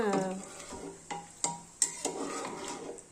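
A dish is stirred in a pot on the stove: a spoon knocks and scrapes against the metal several times in uneven strokes over a faint sizzle, with a brief voice at the start.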